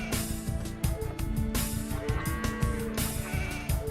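Sheep bleating in the strategy video game Age of Empires II, repeated short calls over a dense, continuous layer of game music and sound effects, no talking.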